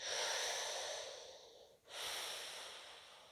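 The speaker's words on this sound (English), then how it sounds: "you're breathing in and out through resistance with a small mouth" A long, airy breath out through narrowed lips, a brief pause, then another slow hissing breath in, close and steady.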